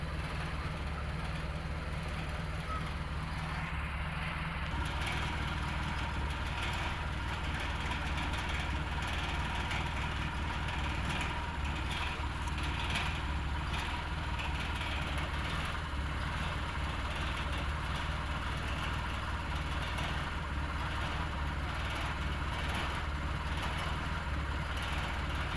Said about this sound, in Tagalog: Ayan, maganda yung andar ng ating makina. Tahimik lang.